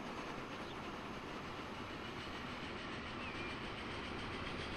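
A train runs in the video game Transport Fever 2 in a tropical setting, a steady dense rumble of wheels and carriages with faint clickety-clack, continuous and fairly quiet, with no voices.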